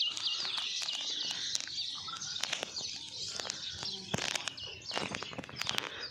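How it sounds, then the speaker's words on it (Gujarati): Sparrows chirp and flutter about a farm field during unseasonal rain, with rapid high twittering throughout and sharp bursts of wingbeats and calls scattered over a soft, steady background. "અને જો ચકલા અટાણે ઉડે છે આ બાજુ"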